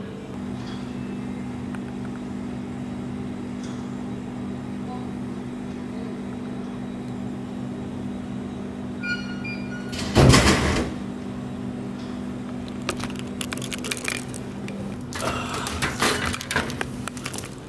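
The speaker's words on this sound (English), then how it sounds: "So I just bought this drink by wiring money from my app to the vending machine with an app called WeChat" A drink vending machine paid through WeChat hums steadily, then gives a loud clunk as the drink drops, followed by scattered rattles and knocks as it is retrieved.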